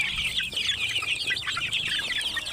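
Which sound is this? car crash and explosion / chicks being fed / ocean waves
chicks being fed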